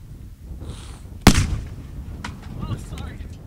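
A single sharp, loud detonation goes off outdoors in the Texas panhandle, followed by a rolling rumble that fades over a couple of seconds. Faint voices can be heard before and after the blast.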